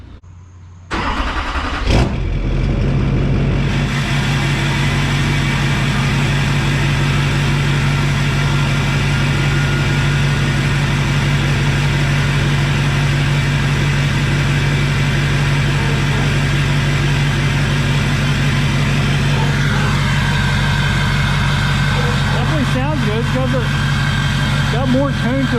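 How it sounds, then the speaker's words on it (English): An LLY Duramax diesel pickup fitted with a 5-inch MBRP exhaust starts after a short crank and settles into a loud, steady deep idle with a constant low drone, rising briefly in revs near the end. "we'll drop this thing down and fire it up"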